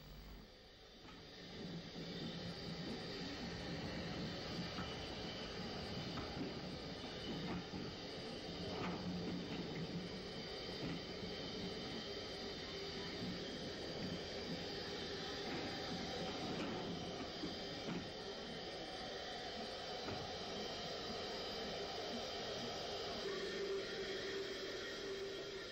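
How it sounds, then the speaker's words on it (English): Station pilot locomotive number 14 on an Irish railway in the 1960s backs down onto coaching stock, giving a steady, continuous rumble of running gear and rail noise that holds at an even loudness throughout, with no voices. "Later in the day, the station pilot, number 14, backs down onto some coaching stock."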